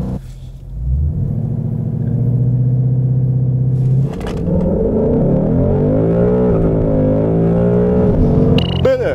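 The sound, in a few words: 2018 Ford Mustang 5.0 GT accelerating during acceleration test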